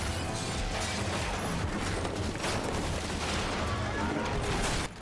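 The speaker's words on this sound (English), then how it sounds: "the rude arrival of the helicopter's gunfire wreaking havoc on the train's carriages" Sustained, dense barrage of video-game helicopter gunfire tearing into train carriages, loud and continuous with crashing impacts throughout, no pauses.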